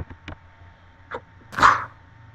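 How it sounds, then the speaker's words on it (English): A single loud, close sneeze bursts out near the end after a few small soft sounds, with no talking around it. "I had to sneeze"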